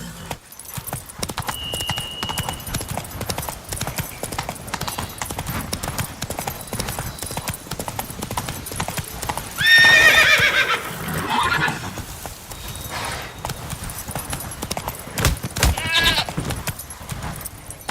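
Roach, Geralt's horse in The Witcher 3, gallops with quick rhythmic hoofbeats and lets out a loud neigh partway through, over a busy in-game soundscape with ambient noise.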